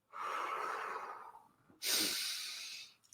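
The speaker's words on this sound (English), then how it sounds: "deep breath" A deep breath taken close to the microphone: a long, airy inhale followed by a short pause and a forceful, hissing exhale.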